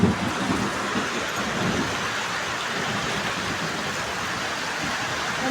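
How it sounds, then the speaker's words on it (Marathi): Heavy monsoon rain pours down in a steady, dense hiss that stays constant throughout, with a low rumbling undertone and no voices. "तुमच्या इकडं आहे का असा पाऊस जोरदार?"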